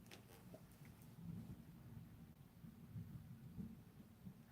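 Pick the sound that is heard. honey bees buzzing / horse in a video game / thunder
thunder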